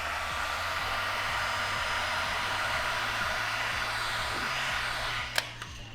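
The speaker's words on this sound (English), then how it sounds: "then we're going to grab our heat gun" A heat gun blows steadily on tint film on a Nissan Patrol Y62 tail light, a loud, even whooshing drone that holds throughout and then drops away near the end with a couple of clicks.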